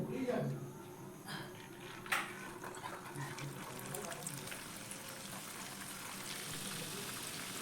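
Semolina pitha cakes fry in medium-hot oil in a pan, a faint continuous sizzle with a few soft clatters near the start.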